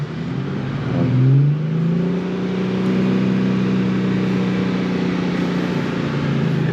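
An idling Infiniti Q50 engine, with its heater hose coupler freshly replaced after a coolant leak, is blipped once and then settles into a steady, close, droning idle.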